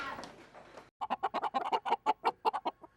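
Roosters rescued from a cockfighting bust in Granville County cluck in a quick rapid series after brief rustling, the calls close and moderately loud with no voices.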